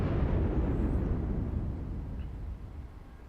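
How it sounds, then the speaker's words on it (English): A battleship's big guns firing high-explosive shells in World of Warships, one heavy booming blast that rolls off and fades over a few seconds, heard alone. "Put out some decent rounds. Those were all HE."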